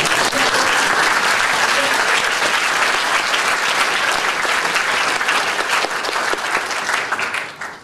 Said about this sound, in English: You want to clap, you're done to clap.